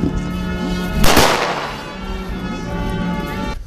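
A military gun salute fires at a war hero's reburial with full honours, one loud crack followed by a long fading echo over a steady outdoor background.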